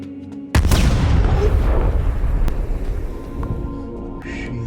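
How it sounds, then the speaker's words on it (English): A grenade explodes in the film Annihilation, a sudden loud boom that rolls into a long rumbling decay over several seconds. "Used the grenade to blow it up"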